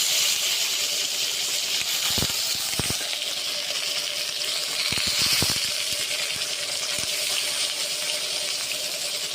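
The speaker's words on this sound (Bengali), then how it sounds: "এবার মাছটা দিয়ে দেবো" Fish dropped into very hot mustard oil, giving a steady, loud, hissing sizzle throughout, broken by a handful of sharp crackles and pops clustered at a few moments.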